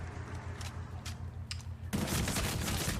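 Automatic gunfire rattles in close-quarters Medal of Honor: Warfighter team deathmatch combat, with scattered distant shots giving way to a dense, loud burst of rapid firing near the end.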